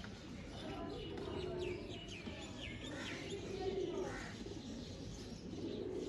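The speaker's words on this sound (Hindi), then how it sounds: "बड़ा लाजवाब कबूतर है" Pigeons from a prized breeding pair, kept for sport flying and sale, coo and call with soft repeated notes. The cooing sounds close and continuous over a busy background of other birds.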